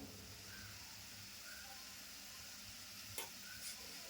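Onions and tomatoes for a quick chicken masala fry in a pan after turmeric goes in, a soft, steady sizzle with faint stirring and one or two small scrapes, fairly quiet throughout.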